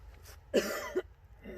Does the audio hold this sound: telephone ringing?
no